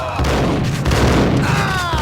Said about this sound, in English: Some fucking range on that shotgun.